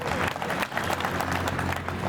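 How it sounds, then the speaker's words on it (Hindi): A crowd at a community seminar and thanksgiving gathering claps loudly, a thick, sustained round of applause that stays even throughout, with a faint hum underneath. "तो हम चाहेंगे मेघराज सिंह जी का एक बार जोरदार तालियां बजा के"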